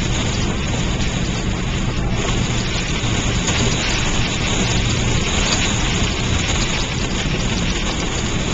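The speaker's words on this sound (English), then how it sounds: "It's sounding a little like hail." Hail mixed with snow and rain pelts a car heading westbound on a mountain highway, a dense, steady drumming and hiss that runs loud and unbroken throughout, with no talking.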